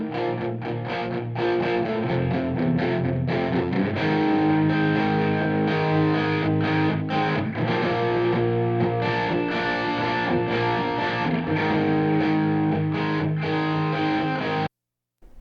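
Stereo electric guitar played through a Line 6 Echo Park delay pedal in an 80s rock style, with loud, continuous distorted chords and echo trails that stop abruptly near the end.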